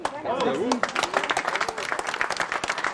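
A crowd applauds the re-election of two centre-right departmental councillors on an election night in Normandy, with scattered close claps and voices mixed into the ovation.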